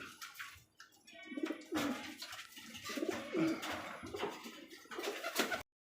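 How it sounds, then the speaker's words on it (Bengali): A pair of orange Chila pigeons, a male among them, coo in repeated rising and falling throaty calls close by, with faint chirps in the background. "একজোড়া সাপ চিলা চিলা কবুতর অরেঞ্জ কালার চিলা দেখেন ডাকারে করছে"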